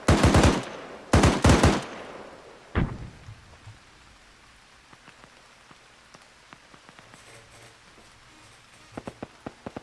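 Automatic machine-gun tracer fire in the military video game ArmA 3: a few loud, sharp bursts up front, a single shot, then scattered faint distant cracks over a low hiss.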